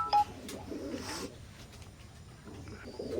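Imported-bloodline teddy pigeons of an Oman line coo softly nearby, a few low rolling coos spaced out over quiet background.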